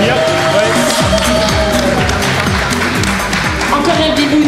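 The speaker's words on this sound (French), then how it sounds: "On peut applaudir." A crowd of audience members at a live podcast recording in Rennes claps continuously in a dense, steady wash, with voices and chatter mixed in throughout.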